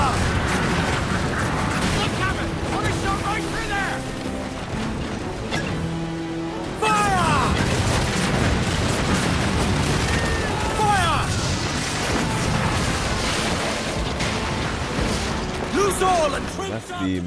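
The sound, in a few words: mortar shot exploding in Assassin's Creed Black Flag video game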